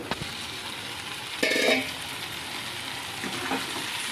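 Prawns with onion stalks and tomato frying in a pan, stirred with a spatula: a steady sizzle throughout, broken by one louder scraping stir burst partway through and a fainter one near the end.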